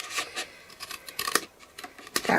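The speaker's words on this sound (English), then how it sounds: "take a pair of scissors and cut away" Scissors snip and rasp through paper in short, uneven strokes, close and fairly quiet, with no voices.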